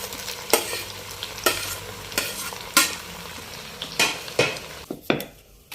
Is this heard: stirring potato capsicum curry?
yes